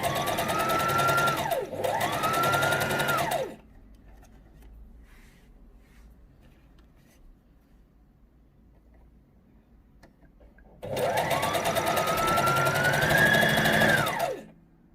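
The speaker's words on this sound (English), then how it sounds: "you sew a small seam allowance" A sewing machine stitches a seam of a jersey dress in two loud, close bursts of rapid whirring, one at the start and one at the end, with a quiet pause between them.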